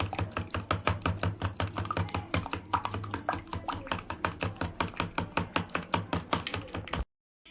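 A spoon briskly mixes chili powder and ground spices for an egg pickle, giving a fast, steady run of close, even clicks and taps that stops abruptly at the end.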